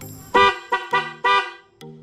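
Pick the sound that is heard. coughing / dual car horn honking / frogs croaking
dual car horn honking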